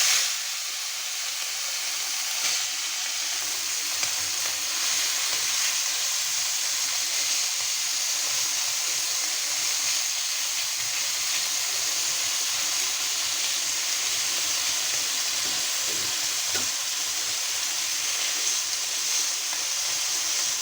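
Oil sizzles steadily in a pan while river chanda fish fry, a continuous close hiss that holds evenly throughout with no talking over it.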